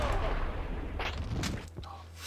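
Gunfire in the Max Payne video game: a dense, continuous barrage of loud shots and booming blasts that fades toward the end, with no voices over it.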